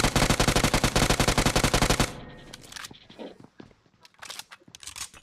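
Rapid automatic gunfire from a video game shooter: a loud, fast burst lasting about two seconds, then quieter scattered sounds follow.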